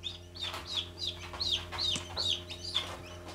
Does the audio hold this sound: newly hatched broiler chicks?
yes